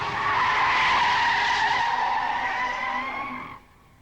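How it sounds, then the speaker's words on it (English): A 1979-era car slides and skids through a corner, its tires squealing in a loud, sustained screech that holds steady for about three and a half seconds, then cuts off sharply. "when you lift off the throttle, the wheels drop into a different tangent and the car starts to slide"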